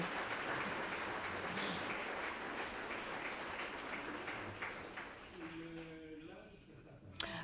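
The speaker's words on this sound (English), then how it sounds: "We can applaud." An audience at a housing discussion forum applauds, a dense crackle of many hands clapping that fades out, after which a voice speaks briefly.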